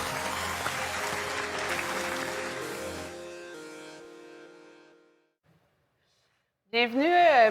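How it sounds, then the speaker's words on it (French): Applause at a startup accelerator demo day fills the first few seconds as a dense clapping wash, then fades out to silence before a voice begins speaking. "Ça, c'est des applaudissements que je viens d'entendre."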